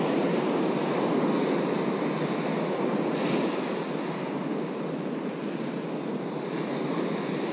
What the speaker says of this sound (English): I can get it where those waves are breaking